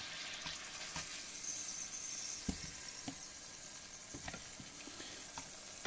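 Beef sizzles in a hot pan while browning for a tomato stew, a steady crackling hiss punctuated by scattered sharp pops and utensil taps, close and fairly quiet, with no talking.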